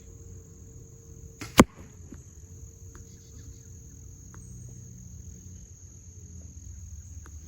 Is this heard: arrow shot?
yes